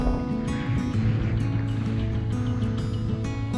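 A sailboat's engine runs in a steady, continuous drone while the boat motors along, with water sloshing against the hull and occasional higher splashes. It is close and loud, with no talk.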